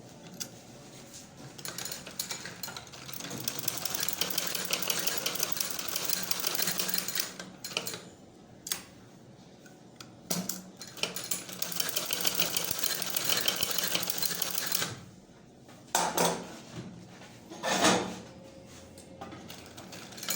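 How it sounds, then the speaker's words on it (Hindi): A sewing machine stitches a baby collar for a ladies' frock, running in close, fast rattling bursts of stitching separated by brief pauses and a few handling clicks. "आइए अब हम इसकी सिलाई करके दिखाते हैं आपको।"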